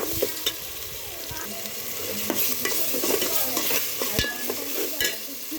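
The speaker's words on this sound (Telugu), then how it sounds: "ఒక మూడు స్పూన్లు అల్లం వెల్లుల్లి పేస్ట్ వేసి బాగా వేయించుకో" Ginger garlic paste frying in hot oil, a continuous sizzle under repeated stirring scrapes and occasional sharp spoon knocks against the pan, close by and with no talking.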